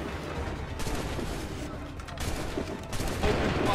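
Rolling musket volleys ring out at the Lexington and Concord battle in Assassin's Creed 3, ragged bursts of gunfire cracking repeatedly over a din of shouting soldiers, loud and continuous.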